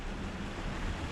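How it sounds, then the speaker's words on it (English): Wind blowing steadily across a moored boat, a dense, continuous broadband rush with microphone buffeting, loud and unbroken for the whole short stretch. "You can probably hear the wind in the background there."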